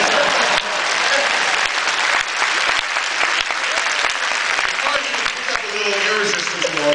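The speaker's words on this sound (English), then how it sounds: "I think it deserved way more applause than that." Audience applause after a gravity demonstration, a steady, loud burst of clapping filling the space, with a voice starting to speak near the end.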